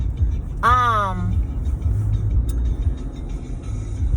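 Road traffic rolls past in a steady low rumble, with one vehicle's rising-then-falling tonal whine sweeping by early on and a brief sharp click later.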